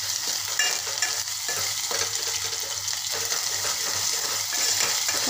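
Grated fresh coconut and garlic paste stirred and sautéed in a hot pan while cooking chole, giving a steady close sizzle with soft scraping stirs throughout, no voices.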